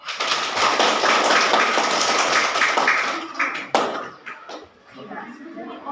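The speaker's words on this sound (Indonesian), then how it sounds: "tepuk tangan dulu." An elementary school class applauds together, a dense, steady clatter of many hands that holds for about three seconds, then thins into scattered claps and fades, with children's voices mixed in.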